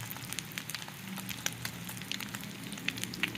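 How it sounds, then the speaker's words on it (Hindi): Egg-coated shami kababs frying over low heat on a griddle, a steady close sizzle with small crackles and pops, alone with no talk. "इस तरह से अंडा लगा के इसको हल्की आंच पे अपने शामी कबाब को फ्राई करना है।"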